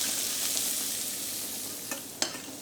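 Onion and garlic sauté gently in a pan for a chickpea and kale curry, a soft continuous sizzle with a couple of brief clicks of stirring, close and fairly quiet, no talking.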